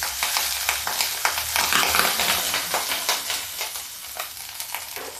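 Hot oil in a pan on a gas stove, with a little water in it, sizzles and spatters steadily for several seconds while moong dal is being cooked, the crackle dense and continuous at close range with no talking.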